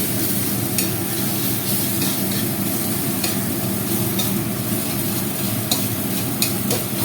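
Spices sizzling and frying in a hot pan, a steady crackling hiss with occasional sharp pops and stirring scrapes, close and continuous with no talk.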